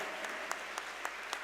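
An audience at a kabaddi event claps in applause for the referees, a brief burst of scattered hand claps with a few sharper individual claps standing out.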